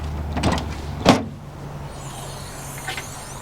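A short mechanical clunk and whoosh as the canopy on a Toyota LC79 ute opens, followed by a faint motor hum and a soft later thump, close and without talking.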